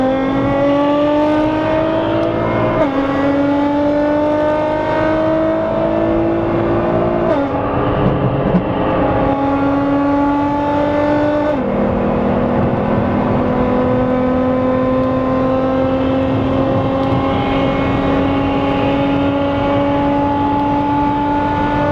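Several loud car engines roar and rev together at the start of a street race from Istanbul to Edirne, pitches climbing steadily as they accelerate, with gear-shift drops, continuous and close.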